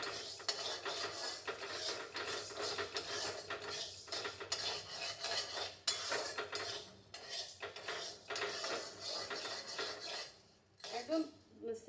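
Urad dal lightly dry-roasting in a pan, stirred with a metal spoon, giving a busy close rattle of grains and repeated scraping clinks against the metal, steady and moderately loud with brief pauses.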